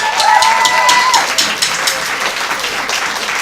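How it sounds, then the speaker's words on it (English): Audience applause at a high school poetry slam, a loud, steady wash of clapping from a crowd with a few cheers, fading slightly toward the end. "Give them another round of applause."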